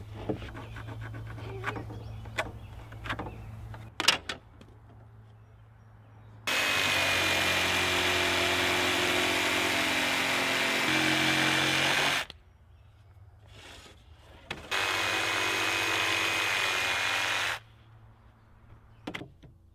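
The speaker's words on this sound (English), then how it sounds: "and we can cut it using the jigsaw." A jigsaw cuts a composite deck board at an angle, two long loud buzzing passes of about six and three seconds, separated and framed by quieter handling noises and clicks.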